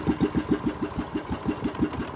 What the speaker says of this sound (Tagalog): May gulo, namatay na naman ng makina.